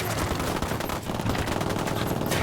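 Sustained, dense gunfire fills a Ghost Recon Wildlands cutscene, with rapid overlapping shots and bursts running loud and continuous throughout, no voices over it.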